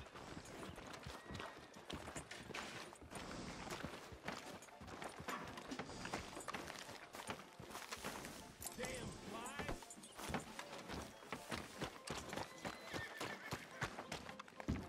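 A horse whinnies and its hooves clip-clop in a Western video game town, with jangling tack and a voice talking over the scene.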